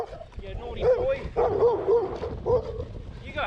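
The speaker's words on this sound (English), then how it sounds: "Hello, first dog interaction." A dog barks repeatedly, fairly close, while chasing a cyclist on the road; short rhythmic barks and whining yips come in bursts, with a person talking over them.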